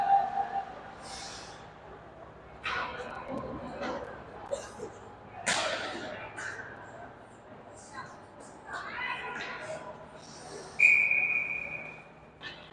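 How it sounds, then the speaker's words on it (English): A referee's whistle gives a short, sharp tone at a youth hockey game between Minneapolis and Hopkins, heard near the end over arena noise and a play-by-play commentator's voice. "which will give us a whistle."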